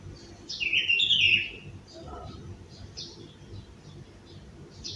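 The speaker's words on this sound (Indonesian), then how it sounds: "Sambil coba dengerin suara burung." Wild birds, including sooty-headed bulbuls, zebra doves and munias, chirp and tweet outdoors, one bright burst of calls up front followed by fainter scattered chirps, with low background murmur.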